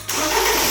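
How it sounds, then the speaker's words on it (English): A BMW engine catches and starts, a brief loud burst of broadband engine noise rising sharply from near silence and holding steady for under a second. "Now start up the car and check for leaks."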